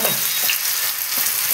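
Gobindobhog rice frying in a pan for polao, a steady close crackling sizzle that runs without a break and with no voices.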